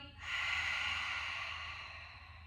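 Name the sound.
deep breathing during a bridge exercise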